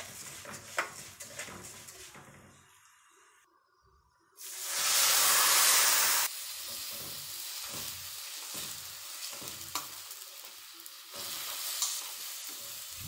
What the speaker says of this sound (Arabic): ما تحرقهاش، خليها صفرا كده بس الحله. طبعا نقلب كويس.